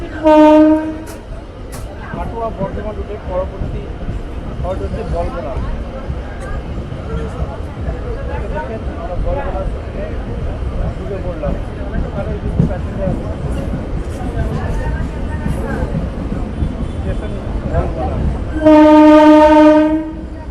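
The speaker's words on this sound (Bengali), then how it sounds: "মুহূর্তে আমাদের ট্রেন ঢুকছে বলগোনা রেল স্টেশনে" A new Katwa–Barddhaman local train pulls into Balgona railway station with a steady heavy rumble, sounding its horn in short blasts at the start and again in a long blast near the end, while voices murmur underneath.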